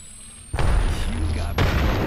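A video game frag grenade goes off, two sharp booming bursts about a second apart, each followed by a rumbling wash of debris noise up close.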